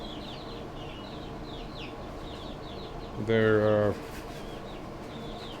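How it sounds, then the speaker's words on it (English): Barred and light gray chickens in a chicken tractor make soft bird calls in the background, with one louder, close call rising briefly near the middle. "The chickens are getting pretty good size now."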